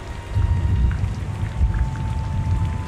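Heavy rain pours down in a rainforest during a rainstorm, a dense steady hiss of drops with a deep rumbling undertone, continuous and fairly loud with no voices.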